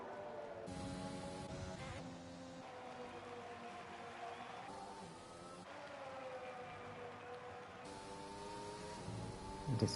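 Formula One cars race at Great Britain's Silverstone circuit in the F1 2020 video game, their high whining engines droning and shifting pitch in overlapping layers at moderate distance, with a steady run of gear changes and no voices.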